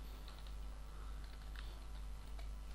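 Soft, rapid keystrokes on a computer keyboard while code is entered, faint clicks scattered over a steady low hum, with no voices.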